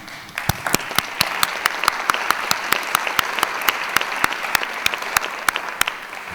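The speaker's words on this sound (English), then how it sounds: "And a big round of applause." An awards ceremony audience applauds in a steady wash of clapping, with a few sharp claps standing out near the microphone throughout.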